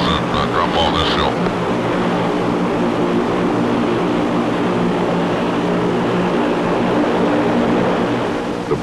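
Aircraft engines keep running on the ground at the South Pole during unloading, a steady loud drone with a low harmonic hum that holds unbroken throughout, with a brief higher whine near the start.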